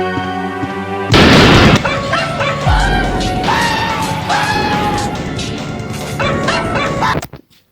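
Dogs bark and yelp in the Resident Evil mansion corridor, a loud crash and boom opening the scene, followed by repeated snarling barks over tense game music.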